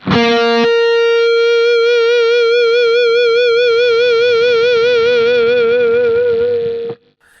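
A sustained, bell-like electric guitar tap harmonic with a steady wavering vibrato from the vibrato bar, ringing for several seconds before stopping abruptly.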